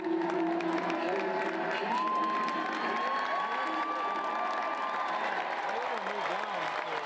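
Sellout minor-league baseball crowd of about 10,000 in Scranton cheering loudly, a dense sustained roar with whoops and shouts rising over a steady wash of voices.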